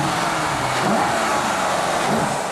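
A Mercedes CLS 63 AMG with a 5.5-litre turbocharged V8 pulls past under hard acceleration, a broad, loud rush of engine and road noise with rising revs, close by and steady throughout.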